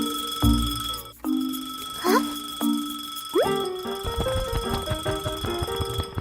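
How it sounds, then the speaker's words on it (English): A cartoon alarm clock rings loudly in bursts, bright metallic bell tones and boinging chimes repeating several times before a busy jangling run of rings. "Suddenly, the clock starts ringing loudly."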